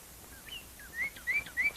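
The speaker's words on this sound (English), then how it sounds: "He found birds." Several faint, thin bird chirps repeat in quick succession, rising whistled notes against a quiet background.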